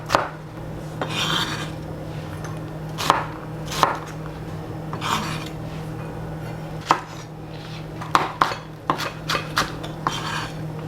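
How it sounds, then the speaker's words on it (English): Knife trimming the ribs and seeds from a jalapeno on a cutting board, a run of close, irregular scrapes and sharp taps that speeds into quick cuts near the end, with no talk. "I'm trimming off the ribs and removing the seeds"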